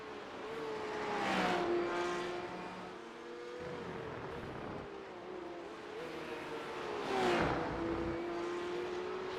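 Porsche race car from a Porsche Cup series at Road Atlanta in iRacing, its engine revving hard and rising through the gears twice as the car passes, loud and steady with no talk over it.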